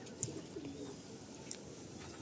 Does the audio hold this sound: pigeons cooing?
yes